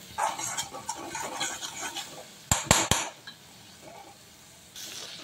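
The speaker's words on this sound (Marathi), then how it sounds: "परत आपल्याला हे हलवायचं आहे, म्हणजे कसं मीठ एकाच जागी बसू नये" Salted masala stirred in a pan for masala bhendi, with the spoon scraping and clattering against the metal, a burst of sharp knocks midway, then quieter scraping, close up.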